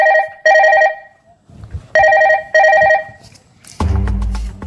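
Loud, close telephone bell rings in three long bursts with gaps between, ending in a heavier clatter as the ringing stops.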